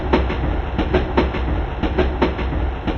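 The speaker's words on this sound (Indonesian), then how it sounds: "Irama roda besi yang berat menghantam sambungan rel. Bunyi desis uap panas yang disemburkan terdengar kasar." Heavy iron train wheels clack over rail joints in a steady repeating rhythm under a loud, continuous rumble and hiss, close and dominant throughout.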